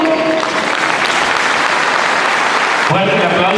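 Loud, dense applause from a church-event audience, sustained evenly throughout and thinning slightly near the end, where a voice begins to speak.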